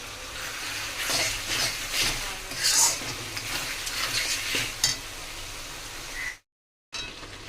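Spice masala being stirred and fried in oil in a pan for a Bengali chicken curry, with a steady, close sizzle broken by scraping stirs and a brief dropout near the end.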